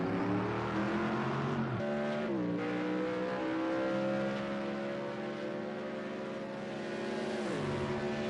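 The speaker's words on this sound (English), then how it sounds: "Just a beautiful sound out of that Mercedes AMG motor. V8." Mercedes AMG pushrod turbocharged V8 race car engine, loud and continuous, holding steady tones with pitch dips around gear changes as the car runs in traffic during a Group C race.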